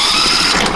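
A cold sawmill engine is choked and cranked over, giving a loud, steady mechanical whir with a high squealing tone for under a second, with no voices.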